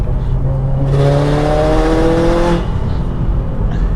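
A modified 2015 Subaru WRX STI with full bolt-ons, an upgraded fuel system, a new clutch, an external wastegate and an exhaust accelerates hard in second gear at full boost, a loud engine note rising steadily for about two seconds before dropping away.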